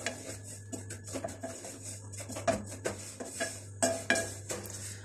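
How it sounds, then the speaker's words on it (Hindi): Wheat flour roasts in ghee in a pan over a low flame, with repeated quiet clinks and scrapes of a metal spoon against the pan at an uneven rhythm and hardly any sizzle. "हल्की आंच पर आटे को गोल्डन होने तक फ्राई करते हैं।"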